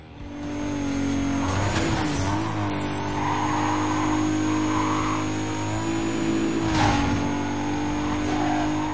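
A car in the racing game Need for Speed: Carbon with a steady, loud engine drone, as tire squeals rise and fall and brief skid bursts break through over the nine seconds.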